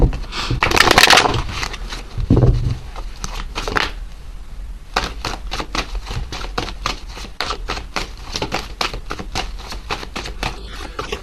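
Tarot cards being shuffled by hand, a close, crisp flurry of riffling and flicking clicks in bursts, with a brief pause before the rapid papery shuffling resumes; no talking.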